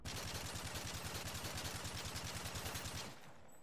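Assault rifle fire in Call of Duty: Modern Warfare 3, a steady automatic burst of rapid, evenly spaced shots lasting about three seconds, loud and close, then stopping abruptly.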